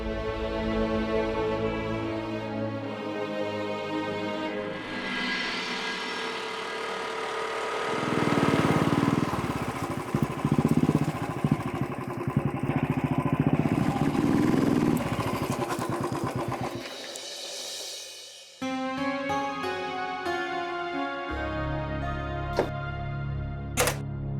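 A motorcycle engine runs near and steady with a rough, clattering drone that swells in the middle and then drops away before settling into a low idle, with no speech over it.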